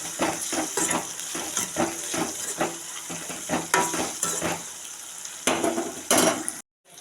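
Tomato, onion, chilli, ginger and garlic sautéing in a pan for a duck curry gravy: a constant close sizzle broken by repeated scraping strokes of a spatula against the pan, ending in a brief silence.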